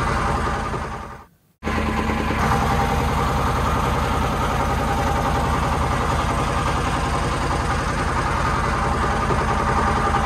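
A trawler boat's engine drones steadily and loud close by after setting off for Dhuppani Waterfall, a continuous vibrating rumble broken only by a brief dropout near the start.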